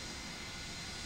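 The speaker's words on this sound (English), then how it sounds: "before they make one low pass the full length of the shuttle landing facility about 200 feet off the ground with the landing gear up" Shuttle carrier aircraft with Space Shuttle Endeavour mounted on top makes a low pass about 200 feet above the shuttle landing facility runway, gear up: a steady, broad jet engine roar, loud and continuous without pause.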